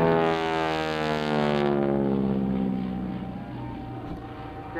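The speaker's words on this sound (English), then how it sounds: "He keeps the airplane right in the airshow box all the time" A propeller airplane flying aerobatics at a World War II themed airshow drones loudly overhead, its engine pitch sliding downward as it passes and fades into the distance.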